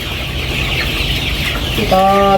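Colour bird chickens, 38 days old, cluck in a dense, continuous flock chatter, with one louder, drawn-out call rising near the end.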